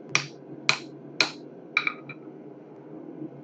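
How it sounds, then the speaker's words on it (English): A forging hammer strikes hot metal for a smithy sign, five ringing metallic blows in a steady rhythm, then a lighter tap, close and clear in a quiet shop. "I think I'm still just going to use my regular forging hammer."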